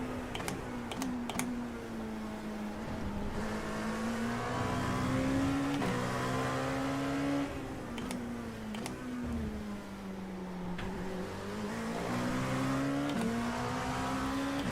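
LMP2 race cars in the iRacing sim during a Le Mans race, a steady engine drone that rises and dips with gear changes, under loud rapid computer keyboard typing clicks throughout.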